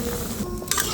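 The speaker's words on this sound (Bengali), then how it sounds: "জলটা দিয়ে একটু নেড়ে ছেড়ে দিচ্ছি।" Prawns in tomato curry sizzle in the pan as they are stirred just after water goes in, a close steady hiss with brief scraping strokes, no voices.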